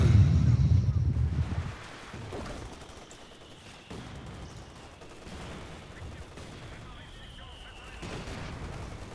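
A rifle grenade fires in the WWII strategy game Company of Heroes 2, a loud low boom at the start that fades into rumbling battle noise with scattered distant shots.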